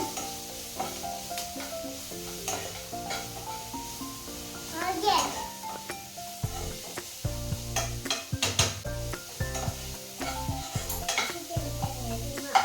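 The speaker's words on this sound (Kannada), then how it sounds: "ಅದಕ್ಕೆ ಈರುಳ್ಳಿ ಪಲ್ಯನೇ ಮಾಡ್ಕೊತಾ ಇದ್ದೀನಿ" Onion palya frying in a pan while being stirred, soft sizzling and scraping beneath music and a voice, with occasional utensil clinks and a quieter, busier home kitchen feel.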